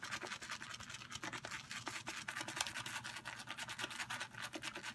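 A big 24 mm shaving brush knot works up lather with dense, rapid bristly scrubbing and wet squishing, kept up continuously at close range without pause.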